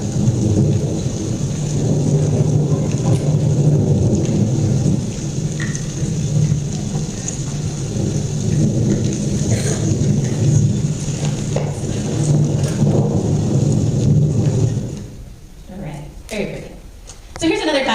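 Thunderstorm feeding a supercell with a rotating wall cloud, heard as a steady roar of heavy rain and rumbling wind throughout, with a person talking over it before it thins out near the end.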